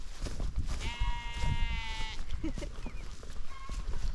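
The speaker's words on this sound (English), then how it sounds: "Sheep, sheep." A sheep lets out one long, wavering bleat close by, followed by shorter animal noises and rustling in a busy farmyard.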